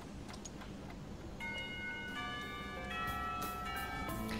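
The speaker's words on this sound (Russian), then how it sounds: "раздается звон колокола, возвещающий окончание занятий" A school bell chimes in the visual novel Katawa Shoujo, bright sustained ringing tones entering after a second and layering into a steady, fairly loud peal over a low background hum.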